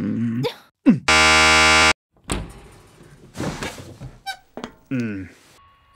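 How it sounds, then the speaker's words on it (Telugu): A loud, steady electric buzzer in a private room sounds once for nearly a second, cutting in between short bursts of talk and small handling noises. "బజర్ సౌండ్ వినిపించింది"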